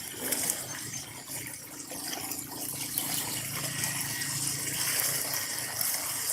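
Strong floodwater rushes by, a dense, continuous broadband roar of churning water, steady and fairly close with no voices.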